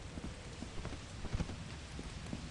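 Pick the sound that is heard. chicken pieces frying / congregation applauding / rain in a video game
rain in a video game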